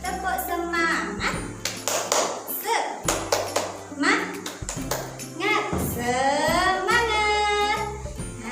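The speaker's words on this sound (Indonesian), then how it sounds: "kita tepuk semangat dulu ya" Schoolchildren in a sixth-grade classroom perform a rhythmic spirit clap, bursts of hand claps alternating with a teacher's voice and children's chanting voices throughout.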